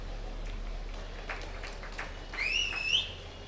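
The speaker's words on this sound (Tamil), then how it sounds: "விசில் அடிக்கிறவன் பையன்." A boy in the audience at a Women's Day speech lets out a sharp, high whistle that rises and then wavers, lasting about half a second, above soft background crowd noise.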